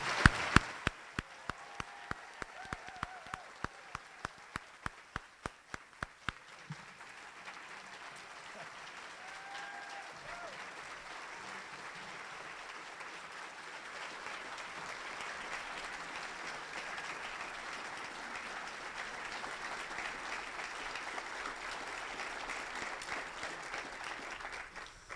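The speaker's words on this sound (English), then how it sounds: "let's have a big round of applause for that" Audience applause at a Rotary luncheon: a burst of sharp, close hand claps fades over several seconds into a softer, steady roomful of clapping and crowd murmur that carries on to the end.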